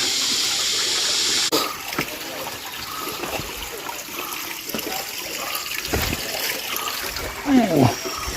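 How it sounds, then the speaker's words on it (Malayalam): Water trickles and flows steadily through a small channel at a wild hillside resort in summer, a soft continuous wash close by, with people talking over it. "ഇവിടെ ചെറിയ ഇതിൽ കൂടെ വരുന്നത് വെള്ളം, എവിടുന്ന ഈ വെള്ളം വരുന്നതെന്ന് അറിയില്ല."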